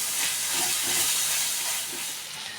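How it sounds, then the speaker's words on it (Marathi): Fresh cashew kernel vegetable sautéing in oil in a Konkan-style Malvani kitchen, giving a steady, soft sizzling hiss that holds evenly for a couple of seconds with no voices. "आता चांगलं मी परतून घेते तेल सुटेपर्यंत"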